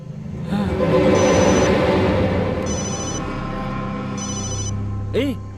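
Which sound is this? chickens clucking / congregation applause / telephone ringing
telephone ringing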